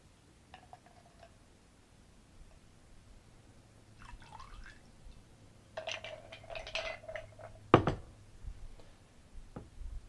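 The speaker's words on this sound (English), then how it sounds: "Then you want to strain that into the glass." A moonshine martini is strained from a shaker into a vermouth-rinsed glass: a quiet start, then trickling liquid with sharp clinks of ice and metal against glass, and one louder knock near the end.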